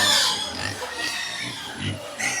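Pigs grunting and oinking on a large farm in Delta holding about 2,000 pigs, several low bursts spread across a few seconds, with people talking nearby over the animals.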